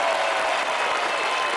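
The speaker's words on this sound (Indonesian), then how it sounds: "Tepuk tangan untuk Mbak." Studio audience applause on a family game show, a dense continuous wash of clapping from a crowd, steady and fairly loud throughout with no talk over it.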